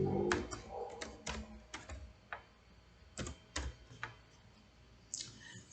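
Quiet, scattered keystrokes click on a computer keyboard during a CAD session for mechanical design drafting, coming in short irregular bursts with pauses between, close to the microphone and with no talking.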